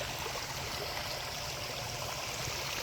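A garden pond waterfall pours in a steady, continuous rush of splashing water, even and unbroken, with no voices.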